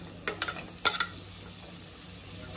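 Capsicum being stirred into vegetables frying in a pan, with a few soft clinks and scrapes of a utensil against the pan over a faint, steady sizzle; quiet and close, no talking.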